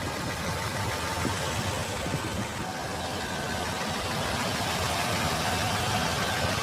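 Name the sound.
Skoda Kodiaq 2.0 TSI turbo petrol engine idling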